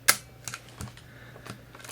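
Olympus 35SP rangefinder camera shutter firing at several speeds, a few sharp close clicks spaced apart with quiet pauses between, no talk.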